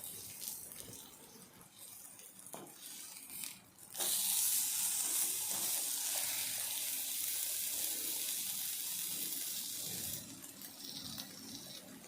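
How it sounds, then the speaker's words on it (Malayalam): Food frying in hot oil in a pan: a strong, steady sizzling hiss bursts in after a few seconds of quieter clatter, then holds close and loud, easing slightly near the end. "അങ്ങനെ അങ്ങോട്ടും ഇങ്ങോട്ടും മറിച്ചിട്ട് ഒരു ക്രിസ്പി ആവുന്നത് വരെ ഇത് വറുത്തെടുക്കുക"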